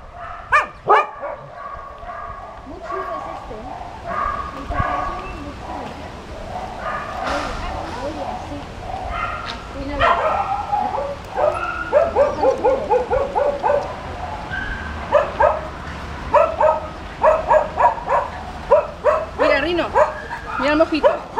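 Several small dogs bark, yip and whimper in repeated bursts close by, growing busier toward the end, while a person talks to them in a coaxing voice.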